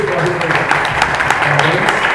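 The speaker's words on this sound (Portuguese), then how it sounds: "Vamos aplaudir o Senhor mais uma vez." Church congregation clapping together in praise during a worship service in Fortaleza, a fairly loud, continuous patter of hands mixed with a low murmur of voices and a humming background tone.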